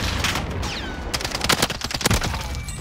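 Rapid gunshots crack in a video game firefight, including shotgun blasts, a series of loud sharp bangs bunched close together with brief gaps between them.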